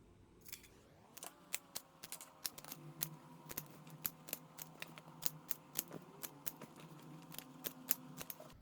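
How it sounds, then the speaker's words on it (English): Scissors cutting fabric for a punch needle Christmas wreath: a close, quiet series of about twenty crisp snips in an even rhythm, heard alone. "Make cuts on the fabric."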